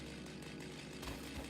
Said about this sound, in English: Bottom left corner, it says I'm using the chainsaw.